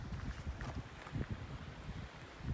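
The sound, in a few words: strong wind during a storm on a hike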